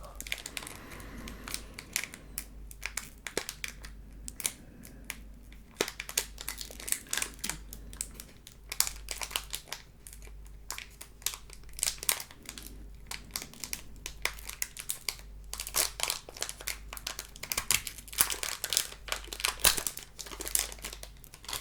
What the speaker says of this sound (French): Maintenant on va ouvrir le deuxième booster.